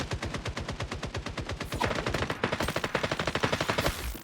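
Rapid automatic gunfire in the shooter game FragPunk, a fast even rhythm of sharp shots that continues through the clip, moderately loud with no talking.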